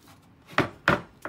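A knife chops through a butternut squash on a cutting board in three dull, firm strokes, each a short thud, close and clear with no talk.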